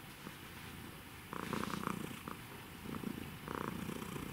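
A house cat purrs close by, a soft steady rumble that swells in rhythmic bursts with each breath, alone in a quiet room.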